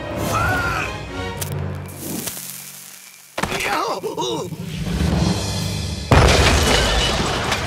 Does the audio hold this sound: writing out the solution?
no